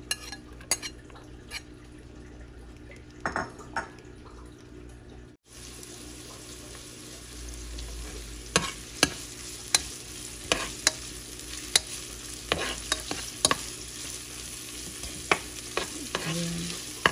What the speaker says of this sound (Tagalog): Tapos, lagayin na natin yung onion natin. Oh, hindi pa init yung mantika. Saka yung ginger.